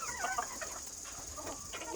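A white rooster and hens cluck faintly on a rooftop in a few soft, scattered calls.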